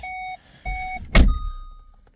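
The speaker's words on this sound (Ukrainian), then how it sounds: "Так, запускаємо автомобіль." A VW e-Golf electric car starting up: two steady electronic chimes, then a short burst of mechanical noise and a fading hum, with no voices.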